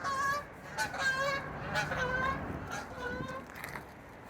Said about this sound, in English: And here comes some geese overhead.